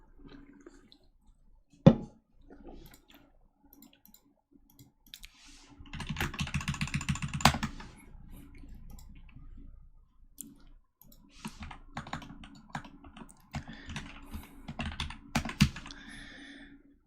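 Typing on a smooth computer keyboard during a live coding session, heard alone as bursts of rapid clicking keystrokes with a few sharper single taps and short pauses between runs.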